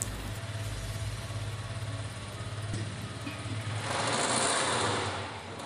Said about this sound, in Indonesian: Hidupkan mesin dan biarkan berputar stasioner